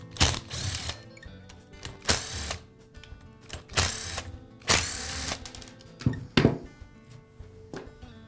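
Screws being backed out of the rear end cap of a DeWALT hammer drill with a ratcheting driver, a series of close, loud clicking and whirring bursts in an uneven rhythm, with no voices.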